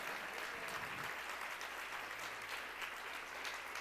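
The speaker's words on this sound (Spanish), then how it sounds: "Si ese aplauso es para Dios, de verdad que está más aguado que nada." Congregation applauding inside a church, a steady dense wash of clapping that fills the whole clip at moderate level without any voice over it.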